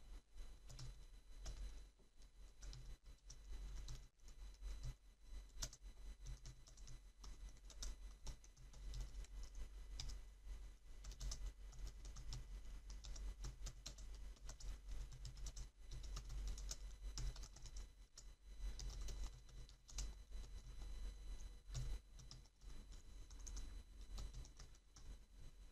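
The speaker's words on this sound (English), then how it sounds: "I'm just going to type in text." Fingers type steadily on a computer keyboard, a quiet continuous patter of small clicks with brief pauses, faint and close under a soft background hiss.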